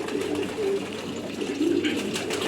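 Pigeons on a pigeon farm in Qatar coo steadily in low, rolling throaty notes, several birds overlapping close by with a constant murmur of background noise.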